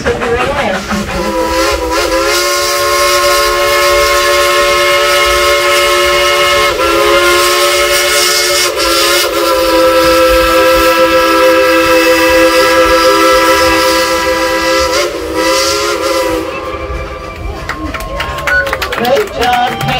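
The Dollywood Express steam train Cinderella rolls along, its whistle sounding loud and sustained in long chorded blasts over a rumbling train, with brief breaks, tapering off near the end.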